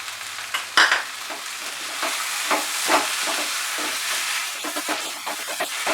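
Potato masala dosa stuffing with coriander leaves fries on high flame, a steady close sizzle with scraping stir strokes and sharper clinks from a spatula against the pan, no talking.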